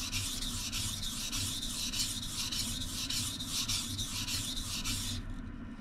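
A kitchen knife being sharpened on a wet whetstone: steady back-and-forth gritty rubbing strokes, about two per second, close and fairly loud, stopping near the end.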